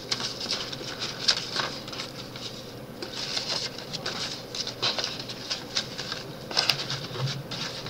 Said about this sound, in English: This is birds.